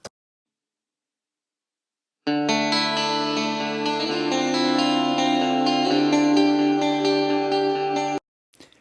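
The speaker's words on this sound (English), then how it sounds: "a clean patch I have in the Axe Effects that does that cool echoey thing" After a silent pause, a sustained guitar chord played through a clean patch on an Axe-Fx processor, with lots of added reverb, swells in, shimmering with heavy echo and washy reverb, then cuts off abruptly.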